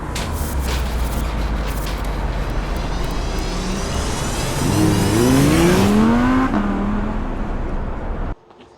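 Honda Civic EG6 engine, loud and close, revs climbing through several rising sweeps with a strong roar before cutting off abruptly near the end.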